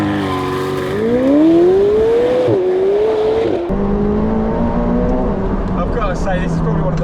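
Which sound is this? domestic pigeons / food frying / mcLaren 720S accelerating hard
mcLaren 720S accelerating hard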